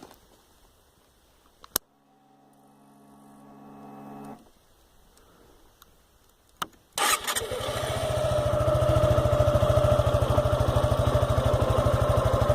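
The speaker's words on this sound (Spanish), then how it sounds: "Este es el sonido del motor." A Suzuki Gixxer SF 150 motorcycle sits through a few clicks and a short whir before its engine fires, then settles into a loud, steady, close-up idle with a rapid, even pulse for the rest of the clip.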